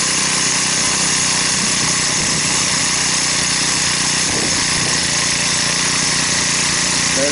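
Craftsman 32cc 4-cycle gas trimmer, model 73193, running at a steady, loud, buzzing idle while warming up after starting, close by and unbroken throughout.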